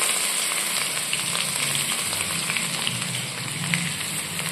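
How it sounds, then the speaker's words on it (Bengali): Ginger paste frying in oil alongside browned paneer pieces, a continuous close sizzle with a bright crackling hiss and occasional soft stirring scrapes, steady and fairly loud. "আদাটা একটুখানি হালকা ফ্রাই করে নেবো"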